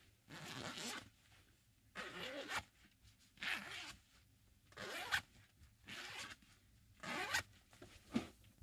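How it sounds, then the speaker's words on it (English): A long zipper on the side pocket of athletic sweatpants is pulled open and shut about seven times in sharp rasping strokes, each roughly half a second to a second long, separated by quiet pauses, heard close up. "And then here's the zipper on the side pocket."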